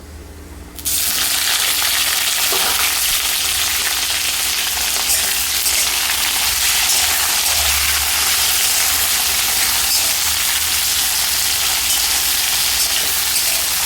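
Carambola pieces frying in a pan, a loud, dense, continuous sizzle that starts abruptly and keeps hissing close up for the whole stretch, with no talking.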